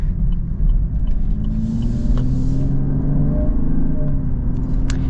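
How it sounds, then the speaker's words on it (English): A 2024 Chevy Camaro V6 engine rumbles steadily up close with a deep, throaty tone that rises slightly as it revs, with no talking. "V6 has an interesting sound."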